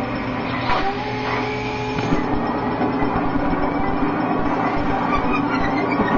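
A ghost purification machine hums steadily inside Luigi's Mansion, a continuous mechanical whir with faint rattling and clicking, loud and close throughout with no talking.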